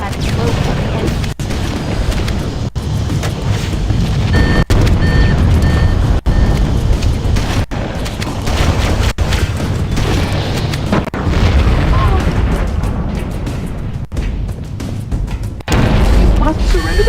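Deep, continuous rumbling explosions and booms from a ship's fusion reactor blowing up in the Halo video game, loud and sustained throughout with repeated heavy bursts, while voices talk over the din.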